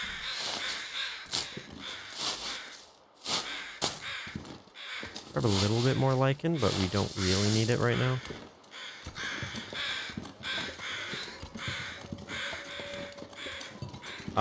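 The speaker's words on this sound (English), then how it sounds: "If there's crows, does that mean it's clear weather?" Crows caw in the survival video game The Long Dark, a run of harsh repeated calls in the middle, loud and close, with someone talking before and after them.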